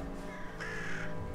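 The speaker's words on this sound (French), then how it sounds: "le corbeau il est là-bas" A crow caws once in the snowy outdoor setting of the survival game Winter Survival, a single drawn-out harsh call that is moderately distant and heard over a steady background ambience.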